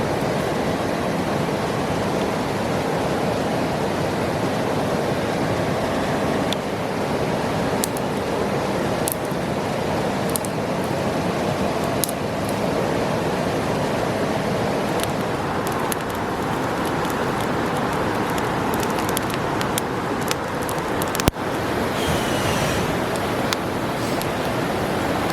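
Red Creek in Dolly Sods, Monongahela National Forest, West Virginia, rushes past with a steady, unbroken broadband wash that stays close and even from start to finish, with no talking.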